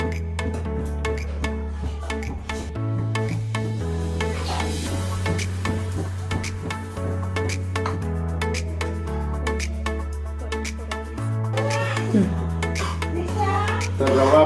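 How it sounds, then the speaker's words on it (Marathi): Semolina (rava) is stirred and roasted in a pan for sweet sheera, giving soft scraping and light sizzling throughout, with background music playing over it. "चिपामध्ये आपण रवा भाजून घेऊया छानपैकी."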